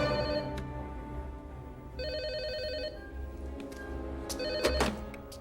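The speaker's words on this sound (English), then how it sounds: "when the phone rings" A telephone rings in a Jurassic Park video game, repeated electronic bell trills in a couple of distinct bursts over a low background hum, with a sharp clunk near the end.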